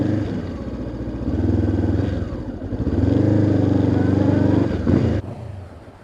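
A motorcycle ridden to work rumbles close and loud, its engine note swelling and holding steady, then dropping away near the end.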